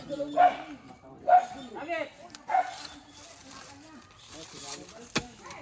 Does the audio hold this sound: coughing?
no